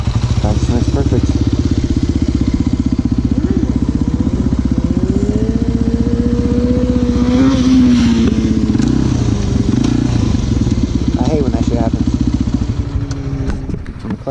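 Kawasaki Z125 motorcycles idle and rev during stunt riding, a close, loud, steady engine drone with a rising and falling rev in the middle, plus some clattering and scraping toward the end.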